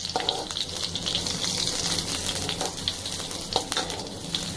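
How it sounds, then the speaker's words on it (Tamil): Garlic fries in hot oil while being stirred, making a close, steady sizzle with scraping stir strokes and small crackles, and no one speaks. "பூண்டு போட்டு நல்லா நம்ம கிளறிட்டே இருக்கணும்."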